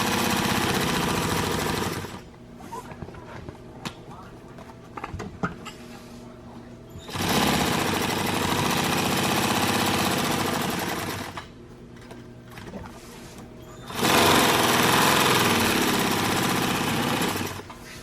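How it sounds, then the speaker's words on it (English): A sewing machine stitches around the edge of a fabric piece in three loud, steady bursts of rapid mechanical whirring, separated by quieter pauses with faint handling clicks. "So I'm going to just sew this all the way around."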